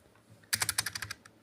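Quick bursts of typing on a cheap, mushy membrane keyboard: about a dozen soft, muffled keystrokes in a rapid run after a brief quiet moment, close to the mic.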